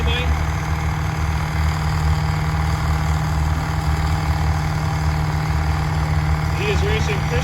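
A diesel pickup truck idling loudly as it warms up at a diesel drag racing event, a constant low rumble throughout with an announcer talking over it.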